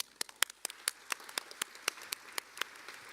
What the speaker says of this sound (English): please join me in thanking our panelists with a round of applause